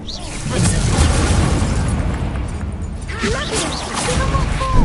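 An Incendio fire spell blasting in Hogwarts Legacy, a loud booming roar that rumbles on for several seconds, mixed with sweeping game effects and faint voices.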